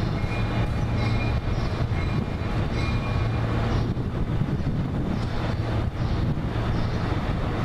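NJT train F23 rolling along the rails on National Train Day, a steady close rumble of wheels and cars with wind buffeting the microphone, continuous for several seconds with no talk.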